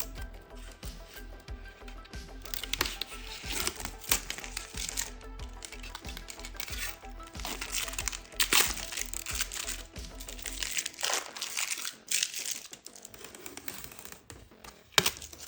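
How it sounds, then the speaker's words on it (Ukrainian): Continuous crinkling and crackling of protective plastic film being peeled off a PC graphics card close by, with irregular snaps and rustles throughout, fairly quiet. "Давайте знімати плівочку."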